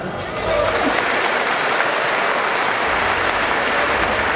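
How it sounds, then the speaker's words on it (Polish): Applause for a speedway coach at a team presentation, a dense continuous wash of crowd clapping that swells after a brief lead-in and holds steady throughout, loud and full with some murmur underneath. "Brawa dla trenera Marka Cieślaka"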